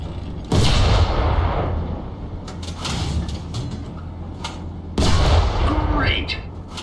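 Tank cannon fire in the War Thunder video game: two loud, sharp booms several seconds apart, each with a rumbling tail, over steady engine hum and faint clatter.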